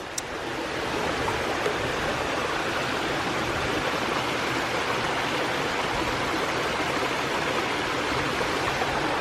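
A village waterfall roars loudly and evenly, constant rushing water in a dense unbroken torrent with no pauses.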